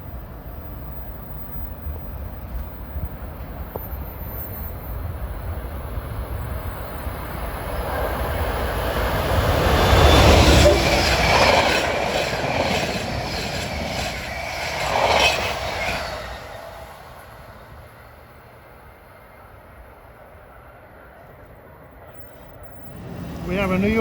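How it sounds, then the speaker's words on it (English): A New Jersey Transit express train bound from New York to Trenton approaches and roars past at speed, the rumble building to a loud peak, then fading before swelling again, with a voice talking over it. "here comes train 3947, New York to Trenton. This is one of those express trains"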